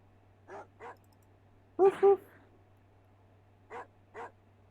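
Barking from a dog in the Amiga game The Jetsons: George Jetson and the Legend of Robotopia, with short paired yaps at start and end and a louder double bark in the middle, over a low steady hum.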